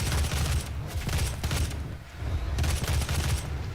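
Heavy assault rifle gunfire in the video game DOOM, rapid sustained bursts of automatic shots with a booming low end, loud and close, broken by a brief pause before firing resumes.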